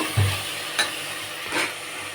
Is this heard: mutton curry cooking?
yes